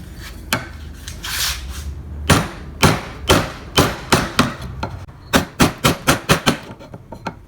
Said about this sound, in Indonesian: Di bagian yang ini masih menggunakan pahat kol ya teman-teman.